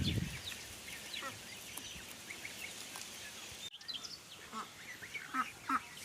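Young ducklings and goslings peep in thin, high chirps that repeat in scattered bursts against a steady outdoor background, some calls closer and louder than others.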